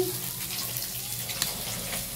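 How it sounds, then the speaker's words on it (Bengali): Pieces of katla fish fry in a pan with a steady, close, hissing sizzle that holds evenly throughout, with a brief sharper crackle partway through. "এই যে কাটাপোনা মাছ ভাজা হচ্ছে, কিছুটা ভেজে নিয়েছি"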